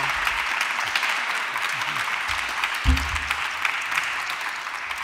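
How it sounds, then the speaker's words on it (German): Audience applause at a literature festival book presentation, a steady wash of clapping from a room of listeners that holds at a moderate level for the whole stretch, with a brief low thump partway through. "Applaus."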